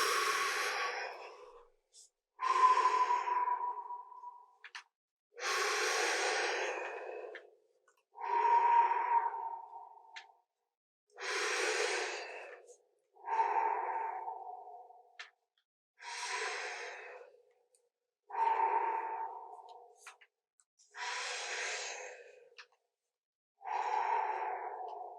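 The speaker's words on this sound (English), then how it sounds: "Inhale through your mouth." Slow yoga breathing in and out through the mouth, about ten long, airy breaths in a steady rhythm with silent pauses between them, close and clear with no talk.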